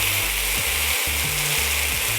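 Stuffed chicken breast with asparagus, feta and sundried tomato, pinned with toothpicks, searing in a hot pan: a steady close sizzle with low rumbling pulses throughout, no talking.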